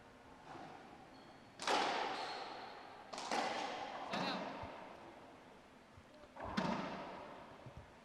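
Racquetball serve and rally hits in a tournament quarterfinal, several sharp booming impacts echoing around the court about every one and a half seconds, with a commentator talking underneath.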